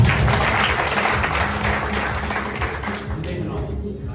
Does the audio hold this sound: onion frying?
no